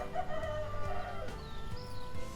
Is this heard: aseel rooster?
yes